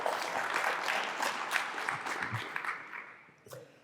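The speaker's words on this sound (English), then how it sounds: "y'all give them a round of applause." Audience round of applause at a small business keynote talk, a steady wash of clapping that gradually thins and fades out near the end, moderately distant.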